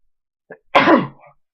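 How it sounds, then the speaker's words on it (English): A single sharp sneeze, preceded by a brief faint intake of breath, close and alone. "Dang, I had to sneeze."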